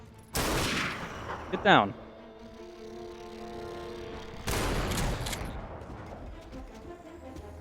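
Bursts of gunfire in Half-Life 2: Episode 3, a loud volley at the start and another heavy burst later, with a ringing tail and a sharp sweep between them, over a low game drone as a voice speaks briefly.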